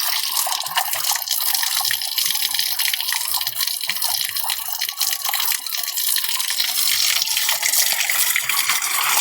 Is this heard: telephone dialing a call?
no